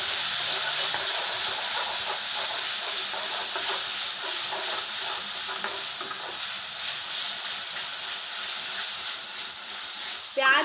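Onion paste sizzling and frying in a pan for dhaba-style Punjabi rajma, a steady, close hiss with faint stirring running throughout and a brief clatter at the very end.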